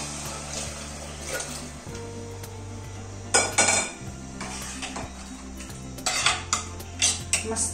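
Drumstick pods stirred in spiced masala in a pan on a home stove, with clinks and scrapes of a utensil against cookware over a soft background hum and faint sizzling.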